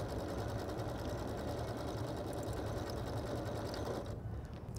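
A Janome sewing machine stitches with a circular attachment, giving a steady, rapid mechanical whir and chatter up close that cuts off just before the end.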